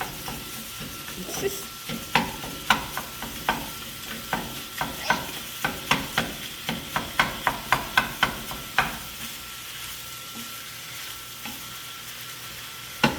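Ground burger meat cooks in a pan while a utensil breaks it up, producing a steady sizzle under a rhythmic run of close, sharp scraping taps that fade out near the end.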